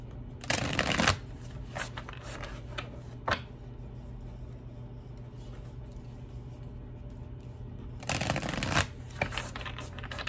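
Tarot cards being shuffled up close, two bursts of riffling and bridging at the start and near the end with quieter handling and a few soft taps between, no talking.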